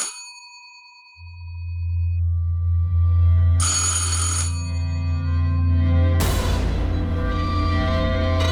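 A bell-like telephone ring chimes and resonates loudly. Bursts of brighter jangling come in, and a low steady hum sits beneath.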